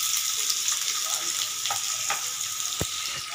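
Three large chopped onions frying over high flame in hot oil for paneer butter masala, a steady close sizzle with occasional stirring scrapes and clinks.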